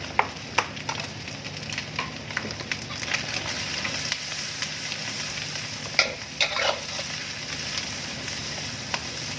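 Carrots and meatballs stir-fried for misoa, giving a continuous moderate sizzle with scattered scraping and stirring clicks from a spatula in the pan.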